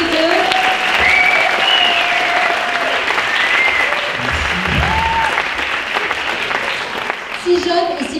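An audience at the Musée Grévin applauds steadily, with sustained clapping and a few voices and whistles, fading near the end as the applause dies down.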